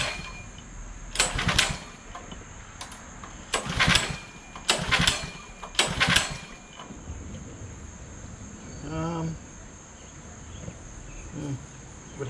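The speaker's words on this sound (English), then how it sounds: "fire the bike up and see if it runs" A small engine on a Doodlebug mini bike is yanked over several times, each pull a short rough burst, with a brief sputter later among steady insect chirping outdoors.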